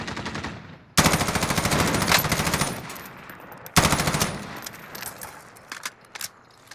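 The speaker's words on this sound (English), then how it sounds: "you're shooting at him already." Bursts of rapid automatic gunfire from the Call of Duty: Modern Warfare video game, two long loud volleys followed by scattered single shots that fade out, with no talking over them.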